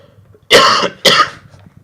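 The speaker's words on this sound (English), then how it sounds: "When I talk a lot, I start coughing sometimes." Two sharp, loud coughs close to the mic, about half a second apart, with quiet background before and after.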